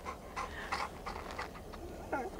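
A puppy dog pants quickly in short, soft breaths, close up in a quiet backyard.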